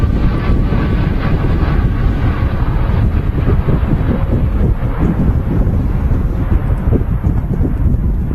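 A Boeing 787-8 Dreamliner bound for Melbourne, Florida, takes off from Manchester Airport: a loud, steady low roar of jet engines mixed with buffeting wind noise across the microphone, sustained throughout without talk.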